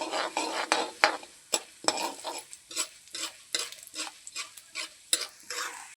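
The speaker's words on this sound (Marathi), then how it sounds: "याला उडदाच्या डाळीचा कलर बदलेपर्यंत तळून घेऊ" Urad dal stirred and fried in a pan for upma, with repeated scraping strokes of a spoon against the pan at an uneven rhythm over a soft, quiet sizzle, close by and without talk.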